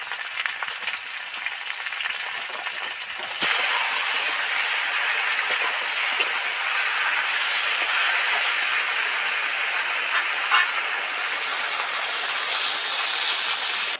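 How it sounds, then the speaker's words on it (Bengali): Vegetables being fried in oil in a pan with a little salt, a steady broadband sizzle and hiss that jumps louder when they go in, then holds constant with a few faint clicks, no voices. "সবজিগুলো তাড়াতাড়ি যাতে ভাজা হয় তার জন্য একটু লবণ দিয়ে দিচ্ছি।"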